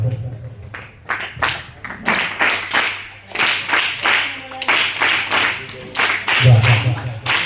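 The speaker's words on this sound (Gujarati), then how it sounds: "સરસ મજાની તાળીઓથી સ્વાગત થઈ ગયું છે" An audience at a one-day music camp at Vinoba Ashram School in Gadat bursts into sustained hand clapping to welcome and honour a guest, with a voice speaking over the applause.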